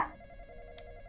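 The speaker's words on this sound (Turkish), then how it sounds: "Telefone." A quiet, steady electronic telephone ring with sustained tones in the video game Roblox, briefly heard on its own.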